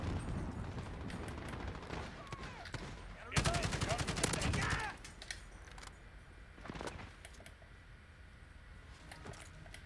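A Silverstar AUG assault rifle fires in a video game, a short rapid burst of automatic shots around the middle, moderately loud, surrounded by quieter game noise and faint background sounds.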